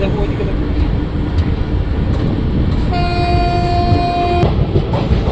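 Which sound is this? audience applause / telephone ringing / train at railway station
train at railway station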